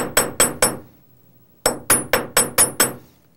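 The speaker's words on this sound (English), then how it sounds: "And then I'm going to hit both sides again with this to smooth out the hammer marks." A ball peen hammer strikes the flattened ends of metal wire for a jewelry S-hook clasp: three quick sharp ringing taps, a pause, then six more in a steady rhythm, close and clear.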